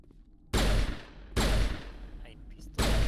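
Pistol gunfire in the Mass Effect video game: three loud, sharp shots spaced unevenly, each with a booming low tail that decays before the next.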